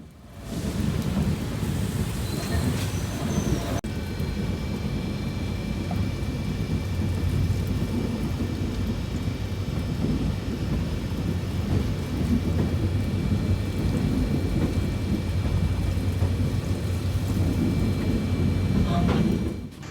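Monsoon rain and thunder during a train journey on the Sengottai–Punalur line, a dense continuous roar of rain and rumbling that stays loud for the whole stretch, with no clear voices.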